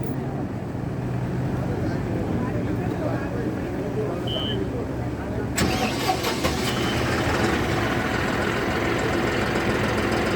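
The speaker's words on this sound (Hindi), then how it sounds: "तो ये बटन दिए है, ट्रैक्टर स्टार्ट करना" A John Deere 5405 CRDi tractor diesel engine cranks and then catches partway through, settling into a steady close rumble that carries on to the end.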